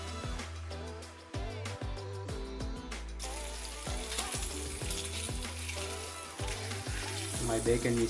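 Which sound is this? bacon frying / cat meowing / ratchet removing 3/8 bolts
bacon frying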